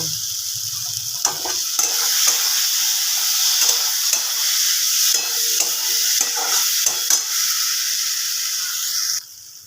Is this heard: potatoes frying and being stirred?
yes